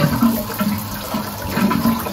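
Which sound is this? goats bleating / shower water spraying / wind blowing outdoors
shower water spraying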